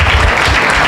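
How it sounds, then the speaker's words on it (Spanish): A church congregation claps during a Spanish-language sermon, a loud, close burst of dense applause filling the whole brief moment. "Más fuerte, el aplauso es para el Señor."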